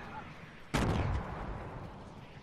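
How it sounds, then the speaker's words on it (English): A rocket blast in a video game, one sudden loud boom partway through that trails off into a rumbling decay over a quiet background. "Whoa, I got rockets coming at me."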